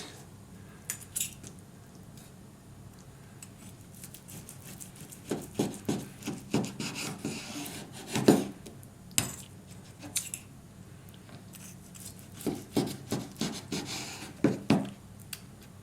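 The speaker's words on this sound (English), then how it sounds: "Then we cut it like this." A knife slices through a cooked medium steak on a plate, giving scattered clinks and scraping cuts in short bursts, some louder strokes among quieter pauses.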